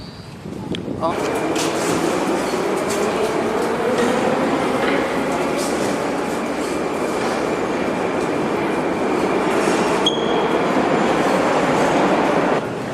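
Moscow Metro subway train riding underground, a loud steady rumble with rattling wheels and faint squeals, and a voice talking over it.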